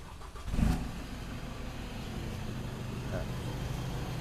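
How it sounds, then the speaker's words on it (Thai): A 2022 Isuzu D-Max 1.9 Ddi diesel pickup engine cranks and catches with a brief loud burst, then settles into a steady low idle rumble close by. "เดี๋ยวสตาร์ทเครื่องให้ดู"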